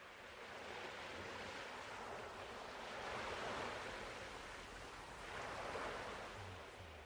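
Ocean waves washing onto a beach make a faint, continuous broadband rush that swells twice as the surf rolls in, heard from a distance with no voices.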